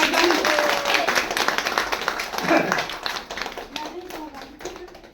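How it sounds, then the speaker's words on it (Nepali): Hands clap in a quick, uneven series at close range, with people talking over and between the claps in a lively home setting. "ताली बजाऊ न यार"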